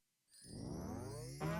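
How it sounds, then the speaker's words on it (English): Little bells chime at the opening of a song, a bright ringing entrance that swells into sustained tones with a rich musical backing, with no talking. "Ooh, those little bells."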